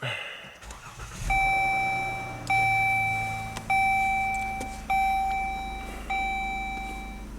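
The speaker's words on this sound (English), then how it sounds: "I guess I can start it up." A Dodge Journey after a collision repair cranks and fires up, its engine settling into a low idle while a loud chime sounds in repeated evenly spaced beeps over the running motor.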